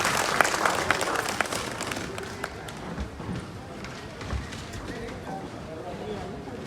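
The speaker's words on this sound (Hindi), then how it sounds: "उनका एक बार जोरदार तालियों से अभिनंदन" Applause greets the mayor at an award ceremony: dense clapping is loudest over the first two seconds, then thins into scattered claps beneath a voice.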